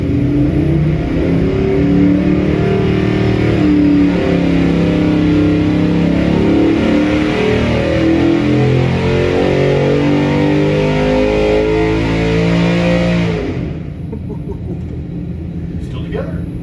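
A 5.3L LS LM7 V8 on a dyno with a stock resurfaced crank screams upward toward 6,700 RPM in one loud, rising wide-open pull, then cuts off abruptly and drops to a lower rumble.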